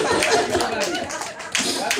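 A church congregation applauding during a sermon, giving a short burst of dense clapping close by with voices and light laughter mixed in.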